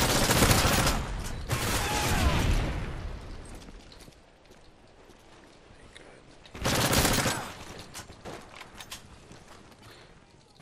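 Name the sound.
unsilenced gunfire in a video game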